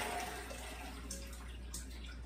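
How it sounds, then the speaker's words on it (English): Soaked pinto beans being drained, with water pouring out in a steady, continuous wash that stays close and fairly quiet throughout, with no talking. "I soaked them overnight in some water, cool water, and I'm draining them out."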